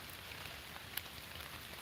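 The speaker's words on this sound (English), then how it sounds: "I did not realize that it was pouring rain outside" Heavy rain pouring outdoors, a steady dense hiss of drops on surfaces filling the whole stretch at low level, with one brief sharper tick near the middle and no talking.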